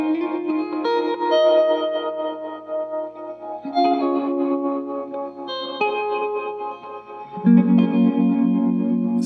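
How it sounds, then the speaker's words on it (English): A guitar effects pedal with its room size and mix bouncing turns sustained guitar chords into a shifting, modulated wash of reverb and echo that swells and changes every few seconds, with no talking. "you can hear as you start to speed this up, this effect that bounce has of turning any pedal into modulation."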